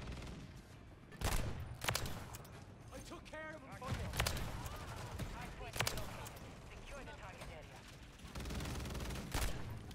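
A TYR firing in Call of Duty MW3 lets off several loud, sharp shots spaced a second or more apart, mixed with busy game noise and a voice talking.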